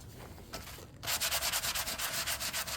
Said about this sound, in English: A little bit of sandpaper here.